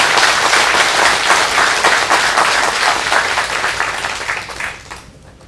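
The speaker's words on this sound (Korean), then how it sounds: "동국대학교가 더욱 발전하라고 다시 한번 큰 박수 주세요." Loud applause from the audience at a Buddhist New Year all-night practice Dharma talk, many hands clapping in a thick, continuous wash that fades out and stops near the end.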